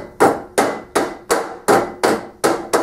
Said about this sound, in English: Using a hide face hammer